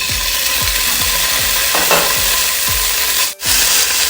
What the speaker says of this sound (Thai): ต่อไปเราก็จะลวนหมูสามชั้นนะคะ